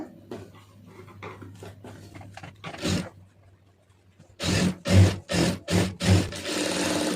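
A sewing machine stitches a folded-down seam on a blouse band, running in several short, loud bursts near the end after quieter handling sounds.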